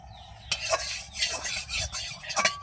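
Fritters of ground kalai and chickpea dal batter frying in oil, with bursts of sizzling and clattering as a utensil stirs and scrapes the pan in short, close, fairly loud strokes.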